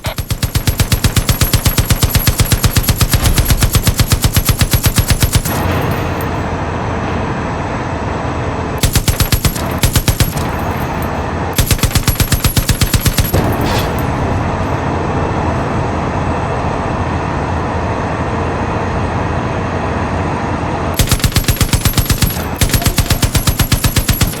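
Cannon fire from the Widowmaker vehicle in Far Cry 5 comes as loud, dense rapid bursts of heavy automatic shots, in long sustained runs separated by brief pauses full of engine rumble.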